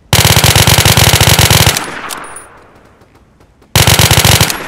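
In a video game, a heavy machine gun fires a loud, rapid sustained burst, fades into a brief lull with faint clinks, then opens up again in another fast burst.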